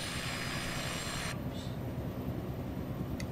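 Helicopter in flight on a sightseeing tour over the Cliffs of Moher, giving a loud, steady rotor and engine drone that fills the whole clip, with the upper hiss dropping away partway through.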